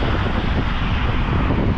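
Heavy, constant wind buffeting a microphone on a bridge, a loud low rumble with broadband roar and no pauses.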